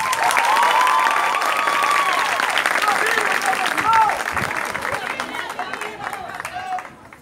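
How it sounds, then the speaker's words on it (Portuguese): A concert audience breaks into sustained applause for the champions after a band performance, dense clapping with some cheering and crowd babble, loud at first and gradually thinning out over about seven seconds. "salva de palmas aos campeões"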